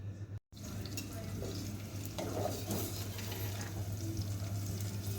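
Onions fry in a pan for gobi keema, a dense, steady sizzle running close and loud after a brief cut near the start, with a low constant hum beneath.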